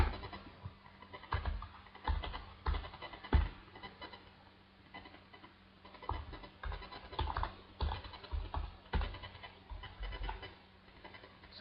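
Fingers typing code on a computer keyboard, a quiet, irregular patter of key clicks coming in quick clusters with brief pauses, close by and alone.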